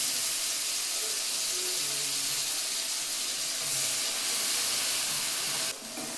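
Chana dal paste mixed with sugar and Amul milk, sizzling in hot ghee in a kadai, a steady loud hiss that holds throughout and drops off briefly near the end.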